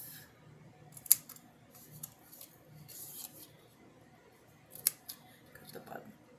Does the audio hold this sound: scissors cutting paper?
yes